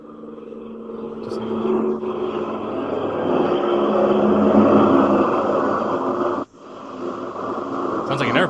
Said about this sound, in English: Sounds like an airplane out there.